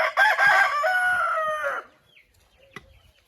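An old hen in a henhouse gives a loud, close, drawn-out crow-like call lasting under two seconds, followed by near silence and a faint cluck.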